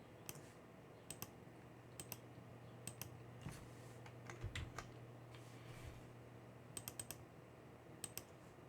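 A computer keyboard is being typed on to enter the lsblk command in a Linux terminal, with quiet, scattered bursts of close key clicks over a low steady hum.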